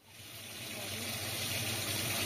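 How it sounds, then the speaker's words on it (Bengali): Water pours into a paneer gravy and it bubbles up, a rising gushing hiss that swells over a couple of seconds and holds steady, with no talking. "আমি সেই কারণে একটু জল দিয়ে আর একটু ফুটিয়ে নিচ্ছি"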